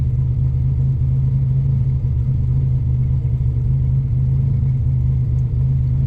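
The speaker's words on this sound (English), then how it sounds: "This injector idling really smooth." A car engine with a newly installed fuel injector idles smoothly and steadily, a loud, even low rumble with no revving, continuous and close throughout.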